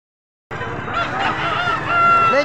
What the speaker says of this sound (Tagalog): Ang daming itim na manok dito.